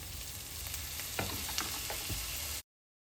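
Six tomatoes with coriander sauté in a pan, a soft steady sizzle with a few faint stirring scrapes, then an abrupt cut to silence.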